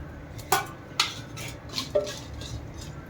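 Metal spoon clinking and scraping against a pot while mushroom biryani spices such as fennel, cumin and bay leaf are stirred, a few sharp knocks spaced over a steady low background, no talking.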